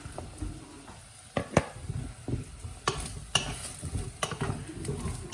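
Radish being stir-fried in a pot: a utensil scrapes and clatters against the metal in irregular strokes over a soft, continuous sizzle, close and fairly quiet.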